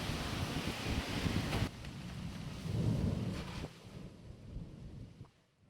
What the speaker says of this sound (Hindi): तेज आंधी तूफान के बाद वज्रपात की स्थिति बनी